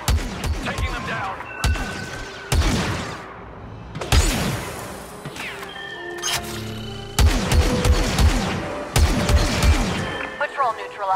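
Gunfire bursts from a Star Wars Battlefront 2 cutscene: loud volleys of blaster shots and booms crack out in clusters every second or two, with shouting voices heard between and over the shooting.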